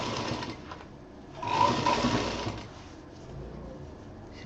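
A sewing machine stitching fabric for a picnic bag, running in short whirring bursts that rise and fall, close by with brief slowdowns between runs.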